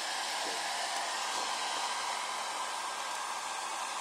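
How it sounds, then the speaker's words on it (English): A hairdryer blows hot air onto sheet paper being softened on a table, a steady loud broadband whoosh that runs unbroken from start to finish with no voices. "Blow hot air to the sheet paper using a hairdryer."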